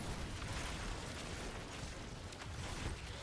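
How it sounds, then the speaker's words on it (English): Explosions going off in a video game make a dense, continuous rumbling roar of overlapping blasts and bursts, loud and sustained throughout. "So many explosions going off."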